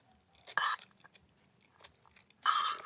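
Crunchy raw onion being bitten and chewed at breakfast, two sharp close crunches about two seconds apart with quieter chewing between them, and no talk.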